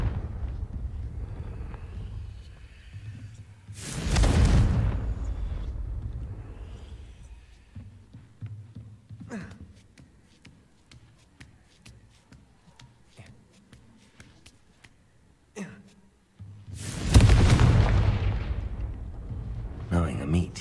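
Two heavy, booming Confringo fire-spell blasts from the Hogwarts Legacy game, one early and one near the end, each with a loud crackling burst that trails off. Quieter game ambience and rustling fill the gap between them.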